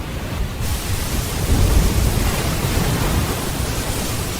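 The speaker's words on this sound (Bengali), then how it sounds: "বাইরে তখন শুধু ঝড়ের গর্জন আর টিনের চালের বিকট শব্দ।" A thunderstorm roars outside a building with a tin roof, a dense continuous rush of rain and wind with a low rumbling swell, loud and unbroken throughout.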